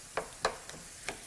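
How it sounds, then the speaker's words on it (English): Ground beef cooks with sweet potatoes in a skillet over medium-high heat, giving a soft, steady sizzle broken by four sharp clicks or taps of a utensil against the pan. "we're just going to sizzle it up and break that up and start cooking the ground beef"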